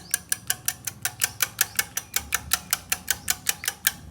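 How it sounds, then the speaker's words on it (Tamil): Beaten egg is mixed into salna gravy with a rapid, even run of sharp clicking strokes, about five per second, close and clear with no voices. "இப்போ இதை நல்லா பீட் பண்ணிக்கலாம் போதும் இப்போ சால்னாவை சேர்த்துக்கலாம் இப்போ இதையும் நல்லா கலக்கிக்கலாம்"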